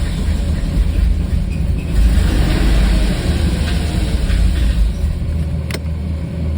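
A 1995 BMW 540i E34 V8 with its valve covers off turns over under the starter, giving a steady, loud, low mechanical churn that runs the whole time with no speech.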